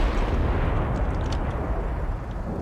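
Artillery shells striking trees in the war game Total Conflict: Resistance, heard as a continuous heavy rumble of explosions and booming impacts, loud and dense throughout with no talking.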